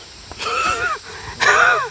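An older man pants out of breath after exertion: two loud, rasping, wheezy breaths, close and with a short pause between them.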